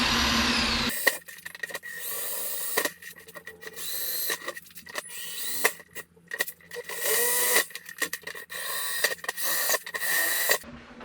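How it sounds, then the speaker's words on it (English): A power drill boring holes through a fabricated PSD panel on an FJ Cruiser, with repeated loud bursts of whining drilling separated by short pauses, close up and without talk. "So now I just need to drill these, let's see, eight holes"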